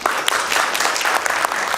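Audience applause at a Thai logistics seminar, a short, loud, even burst of many hands clapping together with no voices over it.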